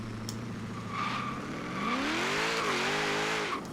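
A 1972 Ford Falcon XA GT-HO launches down a drag strip in Forza Horizon 3, its engine revving hard and climbing in pitch through a short first gear, with a faint tire squeal as it spins, loud and close with no talk.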